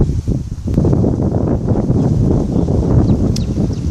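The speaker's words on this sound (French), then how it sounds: "On sent le vent." Steady wind blowing outdoors at Étang Saint-Paul on Réunion, a continuous broadband rush with buffeting gusts against the microphone, close and fairly loud throughout with no talk.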